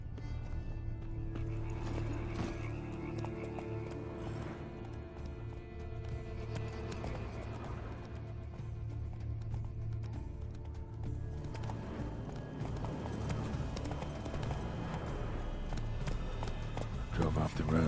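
Roach, a horse, gallops along a road in The Witcher 3: Blood and Wine, her steady clip-clop of hooves running continuously beneath background music and game ambience throughout.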